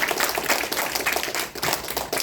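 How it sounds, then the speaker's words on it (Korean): An audience at a seminar on artificial intelligence claps in a brief, dense burst of applause at the opening of a panel discussion, with no voices over it. "뜨거운 박수 보내주시죠"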